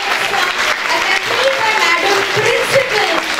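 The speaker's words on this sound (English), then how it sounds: "A huge round of applause, my dear audience." A crowd claps steadily in a dense, continuous round of applause, with a voice speaking over it.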